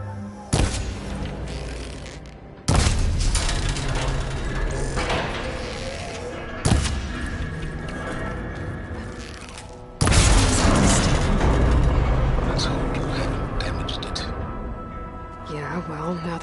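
Heavy booms and metallic thuds as the coupling on a machine's arm is shot in Horizon Forbidden West, several loud impacts spaced seconds apart over rumbling game sound, with a voice talking throughout.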